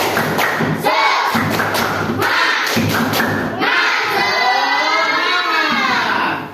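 Elementary schoolchildren in a classroom perform a rhythmic spirit-clap routine, bursts of sharp clapping and thumps in quick patterns alternating with loud chanted shouts, ending in a sustained group yell.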